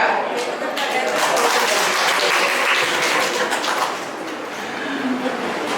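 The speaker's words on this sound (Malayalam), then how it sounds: "ഇവിടെയാണ് കൈയടിക്കേണ്ടത്" Audience applause at a talk, a dense burst of clapping that swells, holds for a few seconds and then thins out, with some voices mixed in.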